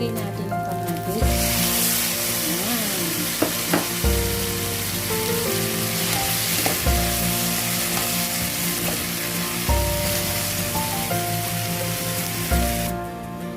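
Tomatoes sizzling as they fry with sardines and black beans, a steady crackling hiss under background music, with a voice speaking over it now and then.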